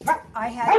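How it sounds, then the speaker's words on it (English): A dog barks a couple of short, close yaps in quick succession, mixed with a brief bit of human speech. "sorry about my dog."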